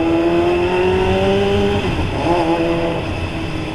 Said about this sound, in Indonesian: suara knalpotnya agak-agak ya lumayan kenceng ya